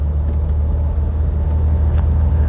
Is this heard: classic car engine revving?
yes